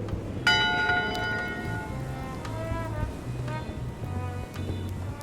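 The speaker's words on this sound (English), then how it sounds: "One bell. Voting hour." A single bell strike rings out for voting hour in Return to Monkey Island, a bright clang that decays slowly over a low, rolling seaside ambience.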